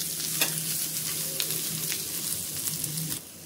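Mashed boiled potatoes being stirred into grated carrot for a samosa roll mixture, a soft continuous scraping and squelching with a few sharper spoon knocks, close and steady, without talk.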